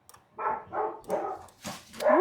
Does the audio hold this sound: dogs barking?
yes